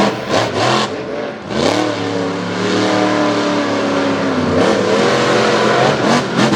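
Ford Raptor monster truck engines revving hard at a Lake Erie monster truck show, a loud, continuous roar with rising and falling pitch sweeps and bursts of acceleration, no voices over it.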